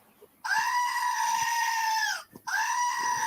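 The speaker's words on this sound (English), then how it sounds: "There's that goat. There that goes. Screaming as always." A goat in a video game lets out two loud, drawn-out bleating screams, the first long and the second starting after a short break, with no talk over them.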